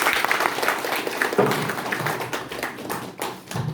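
An audience claps together at a stress management and personality development session. The applause is steady, dense and crackling, and keeps going for the whole stretch.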